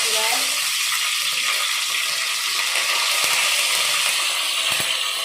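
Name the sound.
spices roasting and being stirred in a pan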